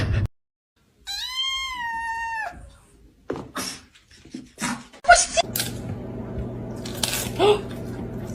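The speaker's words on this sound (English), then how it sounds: "Meowing." A cat gives one long, clear, rising-and-falling meow close by, followed by people talking and scattered household noises.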